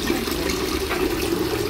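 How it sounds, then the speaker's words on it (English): A water fountain at the entrance of a home in Bali gives a steady, even rush and splash of falling water, close and unbroken, with no voices. "It's a beautiful water fountain."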